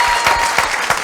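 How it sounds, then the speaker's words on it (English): A crowd at a mental health talk bursts into loud, dense applause, many hands clapping close together in a steady wash for a brief moment. "I think we all should just give her a round of applause"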